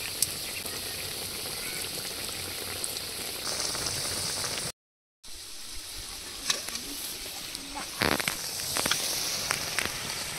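Ground mustard paste boiling in a pan with okra for a vegetarian dish: a steady, dense bubbling and sizzling close by, broken by a brief silent gap midway and a few sharper pops and clatters near the end.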